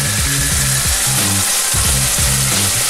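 Loud, continuous sizzle of fish frying in a hot pan seasoned with pepper and thyme, a steady hiss close up with no talking.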